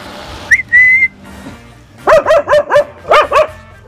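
Stray dogs bark in a rapid series of loud, close yaps, two quick bursts of about five and three barks, after an earlier high whistle-like yelp or call.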